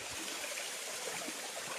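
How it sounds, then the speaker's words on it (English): A small waterfall and stream flow on an Ecuadorian property, giving a steady, even hiss of running water, moderately close and unchanging throughout, with no voices. "This is a little waterfall right next to it."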